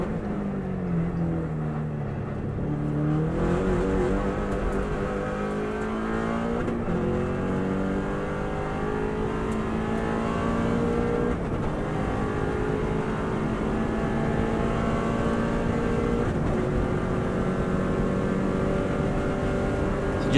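A Subaru Impreza, 2018, runs flat out in sixth gear around a race circuit, its engine roaring loud and close with steady, rising and falling revs throughout the lap.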